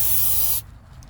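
Brake cleaner sprayed onto the magnet from a Silverado 6L80 transmission pan, a single loud, close hissing burst that cuts off after half a second.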